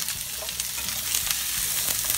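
Onions sizzle in butter and oil in a pan, a steady, close, bright frying hiss with faint crackles throughout and no talk.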